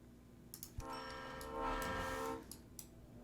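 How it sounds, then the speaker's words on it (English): Trains running in the video game OpenTTD, two at once: a short swelling rumble with a tonal horn-like blast at moderate volume, scattered ticks before and after. "2 trains at the same time."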